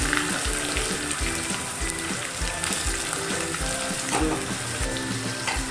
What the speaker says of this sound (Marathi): कांदा व्यवस्थित फ्राय करून घ्यायचा